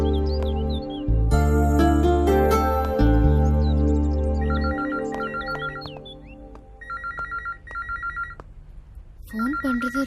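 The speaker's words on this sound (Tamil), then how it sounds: "ஃபோன் பண்றது ராஜீவா தான் இருக்கும்னு நினைக்கிறேன" An electronic telephone ringtone trills in repeated short beeping bursts over a loud musical score in a Tamil film scene, persisting for several seconds with brief gaps.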